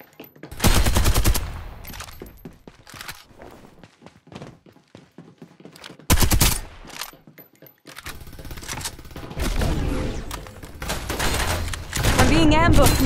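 Farlight 84 video game gunfire, with loud machine-gun bursts in several separate volleys and quieter gaps between them, plus other in-game effects and some voice lines underneath.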